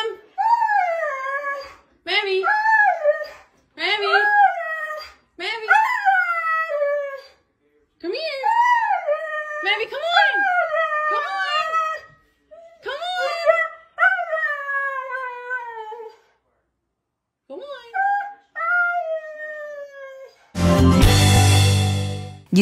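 A husky howls and whines in a long series of drawn-out, wavering, sliding cries broken by short pauses, loud and close, ending in a brief burst of noise.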